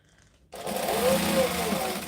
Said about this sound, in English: I'm just sewing down like the 2 side edges of this